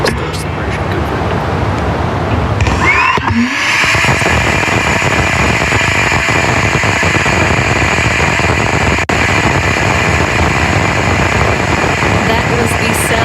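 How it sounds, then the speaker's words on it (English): Electric pump-fed rocket engine firing in space during a Rocket Lab launch, a steady broadband roar and hiss that holds for the whole stretch, with a brief disturbance early on. "That was the sound of an electric pump-fed rocket engine in space."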